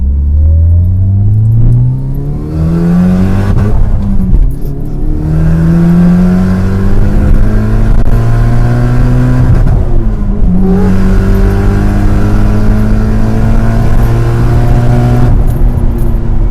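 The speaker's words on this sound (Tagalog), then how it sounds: "gusto ko marinig yung, pakinggan yung blow off gumagapang dito" A Mitsubishi Lancer Evolution VII revs hard through several gears, loud and close from inside the car, its engine note climbing and dropping with each shift, with turbo blow-off bursts released between pulls.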